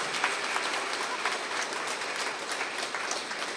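An audience claps at a spiritual book launch event for ALP astrology, a dense, steady round of applause that holds evenly from start to finish with no voices over it.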